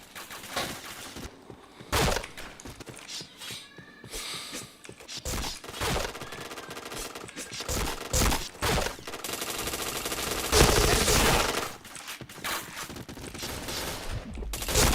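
Sustained automatic and single-shot gunfire in an online shooter game, repeated loud bursts close up across the whole stretch, with a player's voice calling out between volleys.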